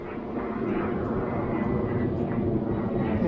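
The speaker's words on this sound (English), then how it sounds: "You get a few planes coming straight overhead here too." An airplane passes low overhead near the Gabba in Brisbane, giving a steady, loud, broad engine roar that holds throughout.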